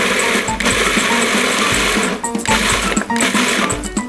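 A blender whirs loudly and steadily up close, emulsifying shrimp taco sauce as extra virgin olive oil is drizzled in, its motor pitch dipping briefly midway before running on.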